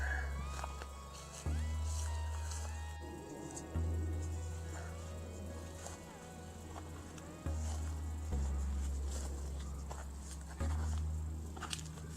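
A swarm of bees inside a hive box gives a steady, dense buzzing hum throughout, with a few soft bumps and handling noises over it.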